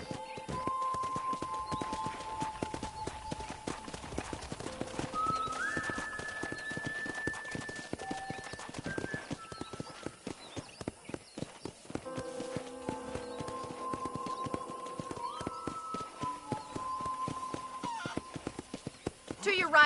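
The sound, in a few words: horse hooves while riding, from video game Red Dead Redemption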